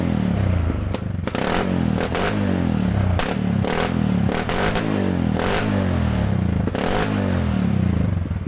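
Kawasaki KLX motorcycle engine with an ignition fault, revved at part throttle and running roughly, a loud continuous drone broken by repeated stumbling misfire beats.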